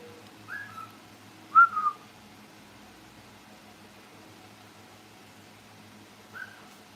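A pet bird named Wizzle whistles a few short, clear chirping notes in imitation of a person's whistle, with two bursts close together early and one more a few seconds later over a quiet background.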